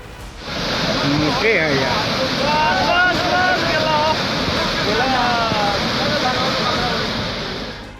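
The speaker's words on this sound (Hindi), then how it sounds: "पहले उफान पर आई बागमती नदी और लाल बकैया नदी का शोर सुनिए।" Floodwater from the swollen Bagmati and Lal Bakaiya rivers roars in a loud, constant rush, mixed with heavy wind buffeting, with voices faintly audible in the background.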